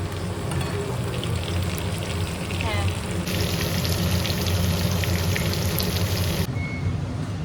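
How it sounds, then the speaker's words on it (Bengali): Potatoes frying in oil for a home-cooked mutton handi kebab, a steady broadband sizzle running loud and continuous throughout, with a brief higher-pitched hiss joining midway and faint background noise. "আলুগুলো ফ্রাই হচ্ছে"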